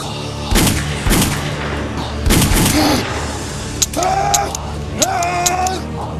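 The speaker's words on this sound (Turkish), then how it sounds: "İçeriden kurşun sesi geldi." A few loud, sharp gunshots ring out at irregular intervals, mixed with clattering and metallic noises and faint tonal sounds.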